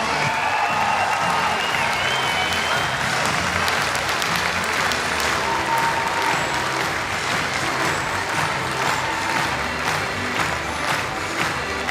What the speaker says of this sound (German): Sie können gerne noch mal klatschen.